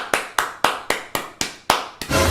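Palms slap together repeatedly while chewing tobacco is prepared, six sharp, evenly spaced claps at close range followed by a brief rubbing shuffle.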